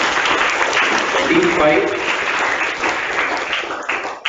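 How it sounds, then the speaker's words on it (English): Clapping for teams at a zonal-level quiz competition, a full round of loud crowd applause held steady for several seconds, with a voice briefly speaking over it. "Huge round of applause for all the teams doing well, and claps of encouragement for the teams who are yet to do well"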